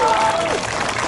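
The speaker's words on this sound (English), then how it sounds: "I would like to hear a round of applause on that." Crowd applause at a rally marking a Chinese community's commemoration in Seattle, a steady wash of clapping held at an even level for about a second, with a tonal voice-like trace near the start.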